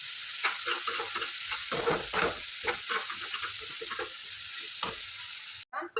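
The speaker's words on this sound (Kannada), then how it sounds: "ಟೊಮೊಟೊ ಯಾರ್ಯಾರಿಗೆ ಇಷ್ಟ ಇರಲ್ಲ ಅವರೆಲ್ಲ ಹಿಂಗೆ ಸ್ಮ್ಯಾಶ್ ಮಾಡ್ಕೊಳ್ಳಿ" Tomatoes sizzle and fry in a pan while a utensil smashes and stirs them in steady, irregular scrapes, close and continuous. A brief clatter comes near the end, and no one speaks.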